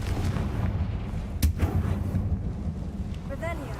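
A Confringo blasting spell cast in the video game Hogwarts Legacy lands as a sharp, booming blast with a short rumbling tail, set against a steady low background din, with a faint chiming effect near the end.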